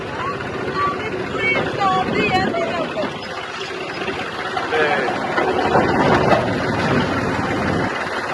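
Tractor engine drones steadily during a wheat harvest near the Indo-Pak border, a continuous mid-level rumble heard beneath someone talking.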